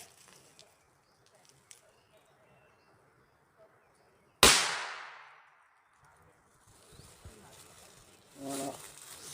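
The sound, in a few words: gunshot being fired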